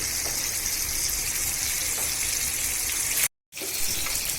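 Chicken fries in a pan, giving a steady, close hiss and crackle that runs without pause except for one brief cut of silence near the end.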